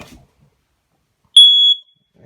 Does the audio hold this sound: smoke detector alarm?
yes